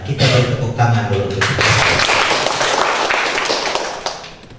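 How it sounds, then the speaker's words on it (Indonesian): Applause from an audience at a church pastoral program monitoring meeting: a dense burst of clapping that starts under a voice and then fills the room for several seconds before fading out. "kita beri tepuk tangan dulu"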